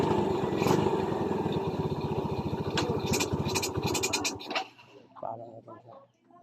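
A carbureted Yamaha Vega 115 motorcycle idles with a steady close putter, then its engine dies after the change pedal is pressed, leaving a few faint clicks and knocks.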